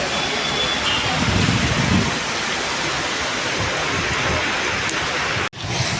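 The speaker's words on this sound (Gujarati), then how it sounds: "ભાવનગરમાં ધોધમાર વરસાદ ચાલુ થઈ ગયો છે" Heavy rain pours down in Bhavnagar, with water running along a road, making a loud, continuous broadband hiss that stays steady throughout and is broken only by a brief dropout near the end.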